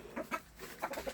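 Several soft, quick clucks from chickens nearby, spaced in two short clusters against a faint background hum.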